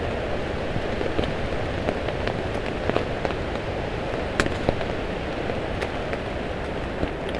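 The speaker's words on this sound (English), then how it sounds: "listen to the rain and the wind." Steady rain hiss with scattered sharp drips and pops, under a constant rushing of wind; no voices, unchanging throughout.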